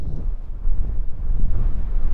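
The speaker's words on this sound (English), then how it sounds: "Big gust." A strong gust of wind batters the microphone on a seaside golf course at Cape Kidnappers, a loud, low, rumbling buffeting that swells and holds for a couple of seconds, with no talking.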